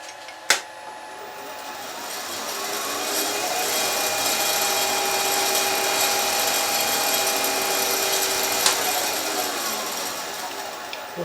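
A machine drill bores into a hammer tip with a centering bit, producing a steady whirring, grinding hum that rises and holds for several seconds, with a sharp click near the start.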